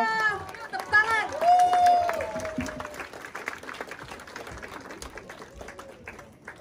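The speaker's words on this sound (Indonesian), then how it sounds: "Tepuk tangan." Audience applause welcoming Professor Olaf, a Swiss stem cell specialist, at a seminar, moderate clapping from a crowd mixed with a voice and chatter, fading gradually over several seconds.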